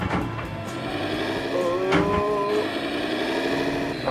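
A Lamborghini tractor engine runs loud and close, revving and labouring unevenly as it misbehaves, with a steady mechanical drone and some surging pitch changes throughout.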